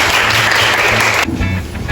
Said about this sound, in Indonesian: Beri tepuk tangan kepada Cok Mira.